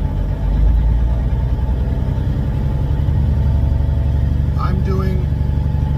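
A semi truck with a 13-speed manual transmission pulls away in low gear, its diesel engine giving a loud, steady low rumble throughout while someone talks over it.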